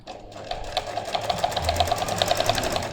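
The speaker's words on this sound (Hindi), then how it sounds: "अब आपने एक तरफ से सिलाई लगानी शुरू करनी है।" A sewing machine stitches a shirt collar along its buckram interlining, running as a fast, steady mechanical patter that stays close and fairly loud for the whole stretch, with no voices over it.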